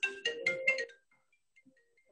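Mobile phone ringtone from an incoming call, a short burst of four quick electronic tones close by, then near silence.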